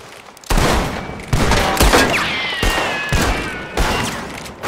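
Rapid bursts of gunfire erupt during a train robbery in Red Dead Redemption 2, with several sharp volleys of shots in quick succession, loud and close, and no talk over them.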